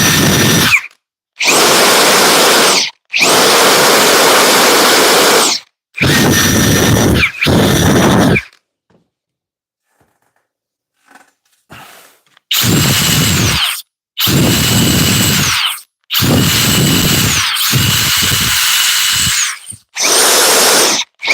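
A DeWalt power drill running in repeated loud, close bursts of a few seconds each with a deep, torquey whine, separated by short stops and one longer silent stretch midway.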